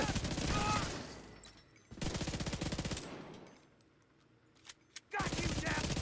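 Machine gun in a video game firing two long rapid automatic bursts, loud and close, separated by a quieter stretch with a few isolated shots before a third burst starts.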